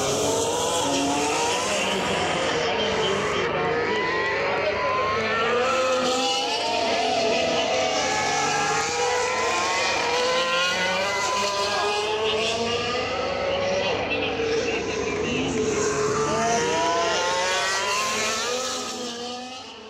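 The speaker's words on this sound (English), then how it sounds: "TV doesn't really show how quickly the F1 cars accelerate and decelerate" Loud, continuous roar of Formula One race cars, engines screaming and rising in pitch as they accelerate past, one after another.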